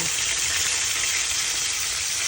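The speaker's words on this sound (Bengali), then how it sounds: "ছোট তিনটা পেঁয়াজ দিয়ে দিচ্ছি" Three small onions sizzle steadily in hot oil in a pan for a bottle gourd dish, a bright continuous frying hiss close up with no talking.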